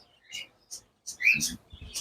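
Brief shrill bird squawks and chirps come in several scattered bursts, fairly quiet, from lories and other parrots calling nearby at a bird farm.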